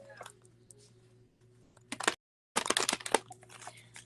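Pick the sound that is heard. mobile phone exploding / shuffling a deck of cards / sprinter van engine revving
shuffling a deck of cards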